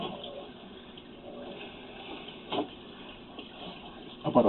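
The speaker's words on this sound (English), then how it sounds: "the reason why I'm leaving the water running" Water runs steadily into a pipe during an optic fiber camera inspection, a hollow, continuous rushing with a few louder splashing bursts near the end.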